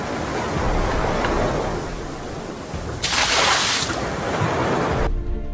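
Stormy sea waves: a loud, continuous roar of surging water and wind that swells into a heavier crashing burst before cutting off abruptly.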